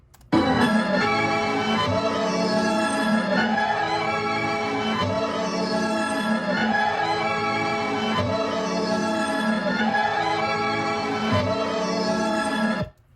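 A reversed variation of a looped sample plays alone as a beat sample, dense and sustained with a steady repeating loop cycle, loud and continuous for about twelve seconds before cutting off.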